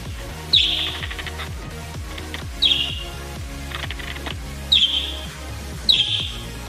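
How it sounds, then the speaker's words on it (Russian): A pet parrot gives four sharp, high chirps at irregular intervals, close by, over faint background tapping. "Так, это у нас попугай, его зовут Вован."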